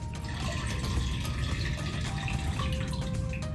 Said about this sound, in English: we'll pour the fuel that we sumped